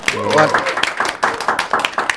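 Audience applause at a speech by a city mayor, scattered claps over a steady wash, with a voice talking over the start.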